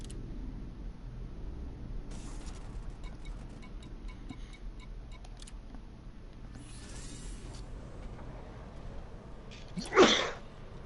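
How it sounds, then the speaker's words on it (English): A single sharp sneeze bursts out near the end, loud and close, after a stretch of quiet background hiss with faint mechanical ticking. "Bless you."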